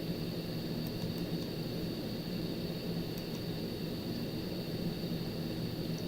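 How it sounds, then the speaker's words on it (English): A helicopter flying for an aerial shot gives off a steady, broad rumbling drone that holds at an even level throughout, with no voices. "probably a helicopter here"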